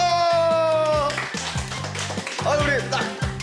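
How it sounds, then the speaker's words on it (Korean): A studio audience on a Korean health TV show claps in loud, quick bursts, mixed under music and a host's voice. "박수!"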